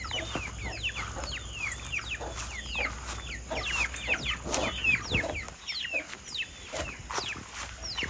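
Chickens in a hen house clucking and squawking continuously, many overlapping calls from a flock nearby, no voices.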